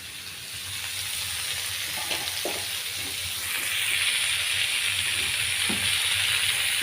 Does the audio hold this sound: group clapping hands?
no